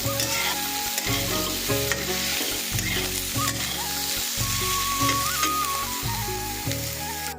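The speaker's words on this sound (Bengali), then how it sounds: "গেঁড়ি আর আলু আমাদের খুব ভালোভাবে ভাজা হয়ে গেছে" Gugli snails and potatoes fry in a pan with a loud, continuous sizzle and repeated stirring scrapes, no voices.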